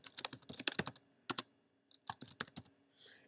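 Typing on a computer keyboard while a first name is entered in an account signup form: quick clusters of crisp key clicks in bursts with short pauses between, close and clear with no talking.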